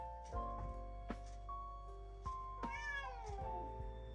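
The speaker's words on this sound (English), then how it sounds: "That's Bumpy, the noisy kitty cat." A house cat meows several times, clear and fairly close, with short calls spaced across a quiet room and one longer drawn-out meow near the end.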